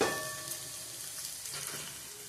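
Okra frying in plenty of hot oil in a pan, a steady close crackling sizzle running throughout with light stirring touches, no voices.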